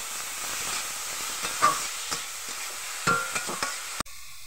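Radish pieces dropped into hot oil tempered with mustard seeds and dried red chilli, giving a steady close sizzle and hiss with a few brief stirring clatters, then cutting off abruptly near the end.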